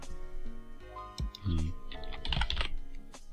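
Computer keyboard typing in brief clicking bursts, partly masked by a voice and other tonal sounds, with the keystrokes blending into the surrounding audio.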